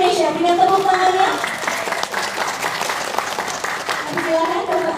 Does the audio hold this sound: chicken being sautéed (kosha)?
no